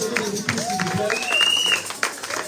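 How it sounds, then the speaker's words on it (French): A church congregation claps together in a dense burst of applause, with shouts and cheering voices rising over the continuous clapping. "Acclame encore plus fort, acclame encore."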